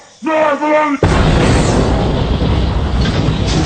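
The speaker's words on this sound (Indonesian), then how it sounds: "mobil yang akan mereka kendarai meledak" Car bomb explosion from The Godfather film: a voice cries out briefly, then a sudden loud blast gives way to a sustained roaring, crackling rumble.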